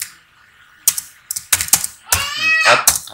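Keyboard shortcut keys using Ctrl are pressed on a computer keyboard in Excel, making a handful of sharp, close plastic clicks in an uneven rhythm, partly overlapped by a brief voice.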